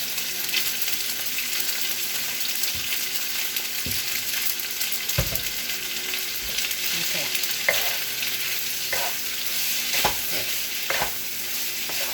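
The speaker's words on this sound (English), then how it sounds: "So I'm going to just fry and mix up the ingredients." Tom yam seafood pasta ingredients frying in a pan, a constant bright sizzle with occasional utensil knocks and scrapes from stirring, close and steady, with no talking.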